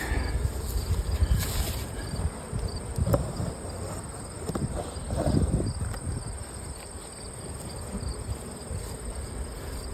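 A honey bee colony in an opened hive, giving a continuous close drone of buzzing with shifting swells of louder rumble and faint wind noise throughout.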